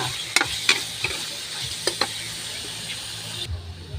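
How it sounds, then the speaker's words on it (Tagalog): Liver being sautéed in a pan for menudo, a soft steady sizzle with several sharp scrapes and clinks of a stirring utensil spaced through it. "Iuuna ko yung atay pagisa para matanggal yung lansa."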